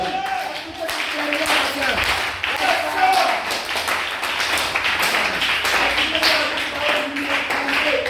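A church congregation claps in acclaim of the Lord, a dense, steady patter of many hands filling the room at close range, with voices mixed in.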